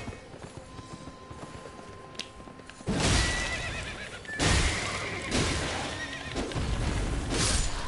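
A video game horse neighs and whinnies in several loud bursts over a busy game soundscape, with hoof clip-clops mixed in.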